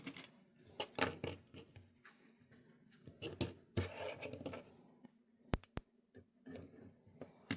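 Sewing clips snapped onto fabric along a zipper for a bag, a series of sharp plastic clicks and rustles scattered irregularly, close and fairly quiet, with no talking.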